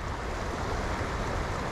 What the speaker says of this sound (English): The water's flowing pretty good.